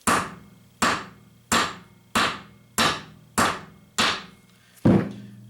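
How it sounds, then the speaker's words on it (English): A ball peen hammer strikes the threads of a metal bolt eight times in a slow, even rhythm. Each blow is a sharp, close ringing hit, with the last one landing harder. "just take a ball peen hammer, and we're going to hit the threads on here to mess them up"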